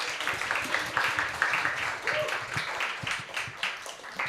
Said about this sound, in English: I think a second round of applause is in order for that